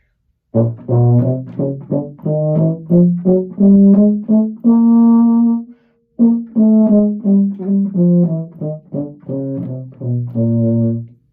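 A euphonium plays two runs of short notes in groups of four, tongue, slur, tongue, some tongued and some slurred together, with a brief pause between phrases, loud and close.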